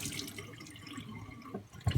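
A knife and a Norton water stone being rinsed under running water: soft, close trickling and splashing, with a few louder splashes at the end.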